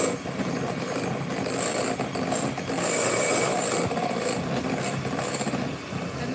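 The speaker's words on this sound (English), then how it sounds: "And then whisk again." Lychee and raspberry cake batter being whisked in a bowl, a steady scraping, rattling whir that runs continuously and fairly loud, with no talk over it.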